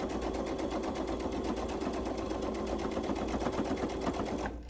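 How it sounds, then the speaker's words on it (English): Sewing machine stitching steadily through the thick open seam of a beginner rag quilt, a fast, even mechanical chatter running close and continuous for several seconds before slowing at the end. "I'm gonna open that seam on both the top and the bottom and sew right through it"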